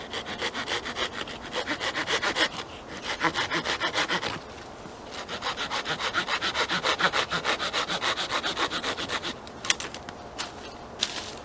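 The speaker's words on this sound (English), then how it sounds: "We'll start by just cutting a small stick here." A hand saw blade cuts through a small half-inch stick of wood, a close, rapid and steady rasping back-and-forth rhythm with a short pause midway, no voices.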